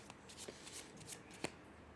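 Tarot cards are shuffled up close, a quiet run of soft riffling flicks and taps at an uneven pace, with no voices over them.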